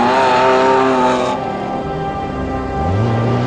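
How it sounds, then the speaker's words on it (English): The V6 engine of an off-road racing vehicle roars close by on a track, loud and steady, its pitch easing off and then climbing again as it changes speed. "Listen how nicely that V6 motor sounds."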